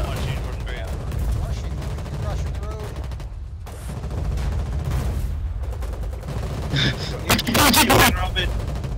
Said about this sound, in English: Keep shooting, Robin.